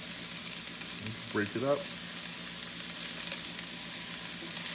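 Cabbage frying in a pan, with a steady hiss of sizzling throughout and a brief spoken phrase close by near the start.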